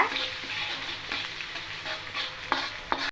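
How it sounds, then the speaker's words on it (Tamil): Ginger and garlic frying in hot oil in a pan while being stirred, a steady close sizzle with scraping spatula strokes and a couple of sharp taps near the end, no voices. "இப்போ நம்ம வந்து இஞ்சியும் பூண்டையும் நம்ம சேர்த்துக்குவோம். நல்லா எண்ணெயில் கொஞ்ச நேரம் நல்லா வதக்குங்க."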